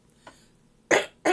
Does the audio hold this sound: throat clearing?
yes